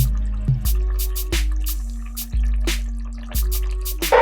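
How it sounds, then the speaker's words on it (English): Crushed tomato is dumped into a pot in a run of wet, squelching plops and drips, several heavy glugs spaced a second apart, close and fairly loud. "I'm going to dump in tomato, crushed tomato"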